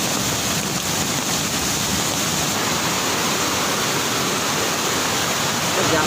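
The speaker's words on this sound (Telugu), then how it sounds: "పెద్ద వాటర్ ఫాల్స్ కూడా చూపిస్తుంది" A large waterfall at Panchalingala Kona roars as a loud, unbroken wash of rushing water that holds steady from start to finish.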